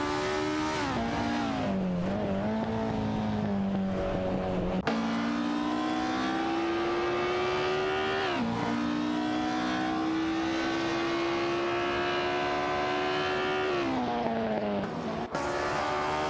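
Matra MS7 and Techno Pass 68 race cars in a video game drone on a long engine whine, rising steadily in pitch through each gear with abrupt shifts, running loud and continuous throughout.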